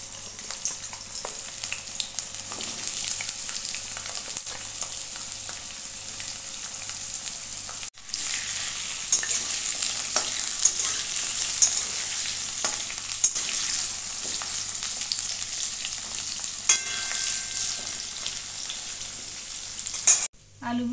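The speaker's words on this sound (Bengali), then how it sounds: "তেলটা গরম হয়ে গেছে, এখন আমি আলুগুলো দিয়ে দেবো। আলুগুলোকে আমি ভালো করে ভেজে নেব।" Potatoes fry in hot mustard oil in a wok, giving a steady, close hiss of sizzling with occasional stirring scrapes. The crackle swells partway through and runs without speech.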